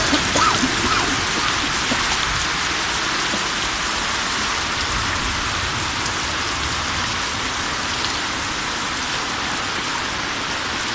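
Heavy rain pours steadily at night in a flooding neighborhood of Yopal, a dense, constant hiss of drops on surfaces, loud and unbroken throughout with no voices.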